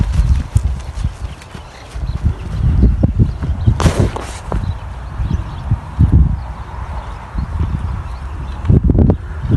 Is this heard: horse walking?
yes